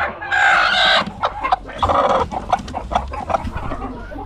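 Egg-laying hens cluck loudly and close by in a farm coop, with repeated squawking calls and shorter clucks over a low ambient rumble.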